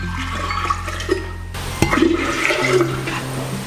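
About 1.5 litres of boiled, cooled water pours steadily into a jar with a rushing, splashing sound, shifting in tone partway through as the flow changes; no talking.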